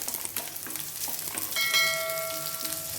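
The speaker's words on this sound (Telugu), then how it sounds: "తెల్లగడ్డ పాయలని ఒక 4 పాయలు తీసుకున్నాను, క్రష్ చేసుకున్నాను. దీన్ని వేసేద్దాము. వేసి వేపుకుందాం." Four crushed garlic cloves frying in a pan of oil: a steady crackling sizzle that swells midway, with a ringing metallic tone as a utensil strikes the pan.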